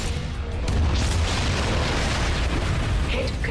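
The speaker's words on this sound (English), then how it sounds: "Starwatch ion cannon armed." A deep, sustained booming blast from the Starwatch ion cannon in Ratchet & Clank rolls on for a few seconds, heavy and loud, like a massive energy weapon discharging.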